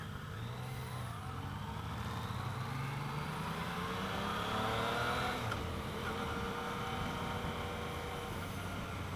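A 2015 Yamaha FJ09 motorcycle engine hums steadily during a ride, a smooth mid-pitched drone with mild swells as the throttle shifts and constant wind rush around it, close and continuous throughout.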